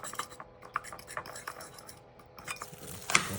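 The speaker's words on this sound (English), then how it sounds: "The ingredients in, we're gonna whisk it together." Mayonnaise and sambal oelek are whisked together in a bowl, giving quiet, irregular metallic clinks and scrapes in quick bursts.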